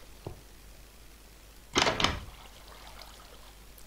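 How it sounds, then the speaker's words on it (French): A door latch in a video game clicks open, a soft click followed by a louder mechanical clatter and rattle at mid-clip, then a quiet fading tail, with no talking. "j'ai entendu le cliquetis de la porte"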